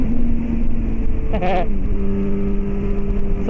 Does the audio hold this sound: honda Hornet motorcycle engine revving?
yes